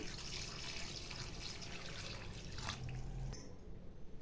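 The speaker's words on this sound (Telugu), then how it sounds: "ముక్కలు మునిగేదాకా వాటర్ వేసుకోవాలి" Water pours and splashes steadily into a container of country chicken pieces for a curry, a continuous close liquid rush that swells briefly near the end.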